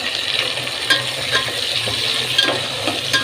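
Small tomatoes drop into golden fried onions in a pan for a sundakkai curry, bringing a steady loud sizzle and frying crackle with scattered stirring scrapes and clinks throughout.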